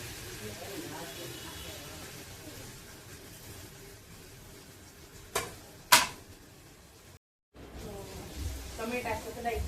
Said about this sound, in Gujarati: પેલા ટમેટું સાતળી લઈશું.